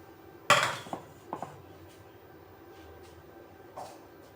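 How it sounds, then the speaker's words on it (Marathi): Grated coconut is tipped into a steel mixer grinder jar in a home kitchen, giving one sharp metallic clank followed by a few lighter knocks and rattles, close by, with no talk. "मिक्सरच्या भांड्यात खोबरं टाकलं"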